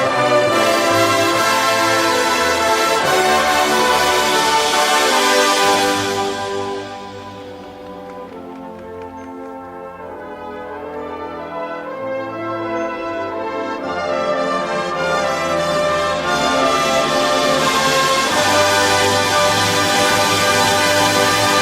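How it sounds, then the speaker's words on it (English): Sustained, shimmering metallic tones from a bow drawn across vibraphone keys swell and overlap in long bowed notes, ringing pitches layering slowly with a glassy, singing quality, no talking. "I think that sound is a bow, like cello's bow, against the keys of a vibraphone"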